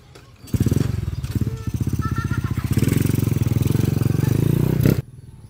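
A motorcycle engine starts up and idles loudly nearby with a rough, steady rattle, revving slightly before cutting off abruptly.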